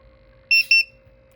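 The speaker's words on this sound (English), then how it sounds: "It will beep." Two short electronic beeps from a Bluetooth-controlled servo motor project board, evenly spaced and close, over a faint steady hum.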